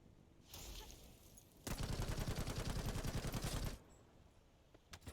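Rapid automatic gunfire with heavy, thudding bullet impacts from the video game The First Descendant. One dense, loud two-second burst of evenly spaced shots stands out against quieter game ambience.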